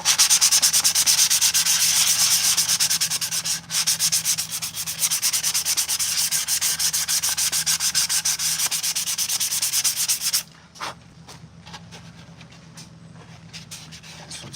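Hand sanding of Purge Trooper armor with 240 grit sandpaper, rapid rhythmic scratchy strokes close up, with a brief pause midway before the rubbing stops and a few scattered scrapes follow.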